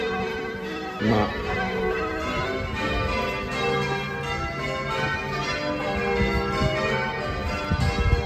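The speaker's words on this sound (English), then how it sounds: "so it's obviously the church bells, but why do they have to be so loud and frequent?" Church bells ring continuously, loud and layered with ringing overtones, a steady clangor lasting throughout, with a brief thump near the start.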